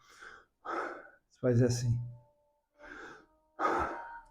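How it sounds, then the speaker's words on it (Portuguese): A person demonstrating deep breathing for meditation, with audible gasping inhales and breathy exhales close to the microphone, alternating with short spoken words. "O respirar é fundamental."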